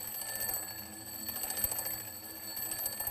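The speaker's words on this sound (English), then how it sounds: "Now listen to the sound as the alarm clock moves away." An alarm clock rings continuously with a steady high-pitched electronic tone, moving away as it sounds so its pitch drops by the Doppler effect.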